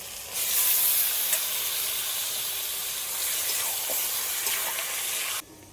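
Mutton marinated in sour yogurt hits a hot pan with chopped tomato for mutton kosha and bursts into loud, steady close-up sizzling that holds for about five seconds, then cuts off abruptly.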